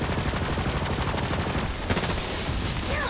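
Rapid, continuous bursts of gunfire from Borderlands 3 as a player shoots arena spectators, loud and dense with fast repeating shots across the whole stretch.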